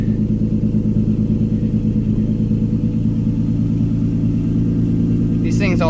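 A Nissan Maxima engine idles steadily and low just after a cold start, with a continuous close rumble throughout and a brief higher noise near the end.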